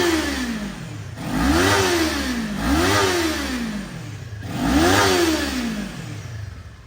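A 2019 Kawasaki Ninja 400 motorcycle, its parallel-twin engine idling close by, is blipped three times, each rev rising quickly in pitch and dropping back to a steady idle.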